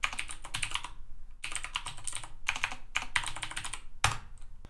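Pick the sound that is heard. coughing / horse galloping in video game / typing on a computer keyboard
typing on a computer keyboard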